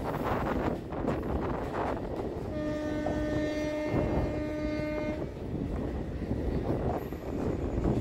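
A local train on the Howrah–Bardhaman main line between Naihati and Bandel rumbles along steadily, with wind buffeting the microphone. A loud horn blast of about three seconds sounds midway, heard from on board with no talk.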